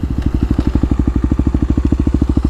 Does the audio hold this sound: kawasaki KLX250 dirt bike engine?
yes